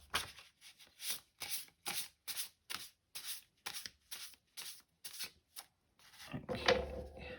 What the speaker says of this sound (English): I give them a quick shuffle, split them into 3 decks